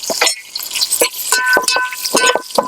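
Three onions frying in oil with whole spices for a village-style masale bhat, close up with repeated crackling sizzles and stirring clatter in short bursts, no talking.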